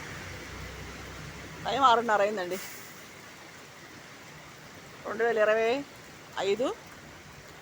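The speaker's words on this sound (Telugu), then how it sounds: "ఫుల్ వాన." Heavy evening rain falls near a hillside road as a steady, dense hiss throughout, with someone talking over it in short bursts.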